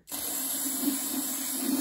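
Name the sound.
silicone spray aerosol spraying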